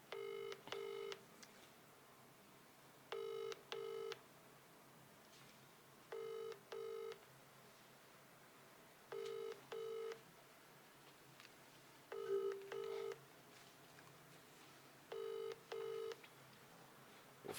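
A telephone rings on a call, quiet and clear, in double bursts repeating roughly every three seconds with silence between them.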